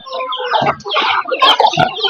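Peruvidai country chickens, a native breed, clucking busily at feeding time on a farm, several birds overlapping in a close, continuous chatter of short clucks and squawks.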